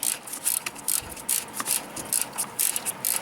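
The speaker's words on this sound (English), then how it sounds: "use a ratcheting wrench. This has a flexible head" A flexible-head ratcheting wrench loosens an alternator bolt on a 2001 Hyundai Accent, quick rhythmic clicking in short bursts, close and crisp with no talking.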